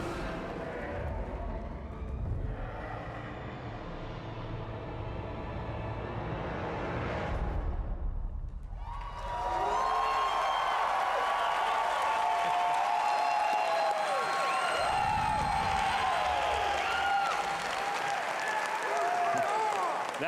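Sustained applause from a crowd at the Bethesda E3 2019 briefing, steady clapping swelling after a brief lull, with a voice speaking over it and scattered cheers.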